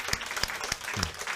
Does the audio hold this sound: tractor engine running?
no